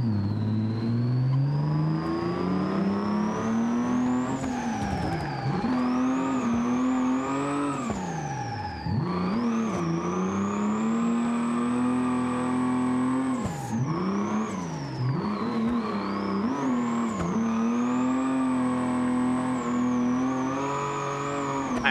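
In BeamNG multiplayer, simulated cars drive in tandem, their engines revving loudly and continuously. The pitch sweeps up and down as the drivers throttle, lift and shift, and nobody talks over it.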